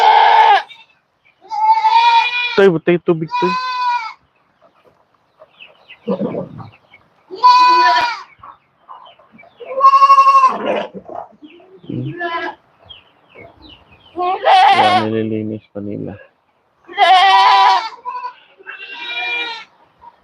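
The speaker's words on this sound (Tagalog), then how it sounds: "Yung mga kambing natin ang ingay na." Hungry goats on a farm bleat loudly and repeatedly, several calls close by in irregular bursts, while someone talks between and over them.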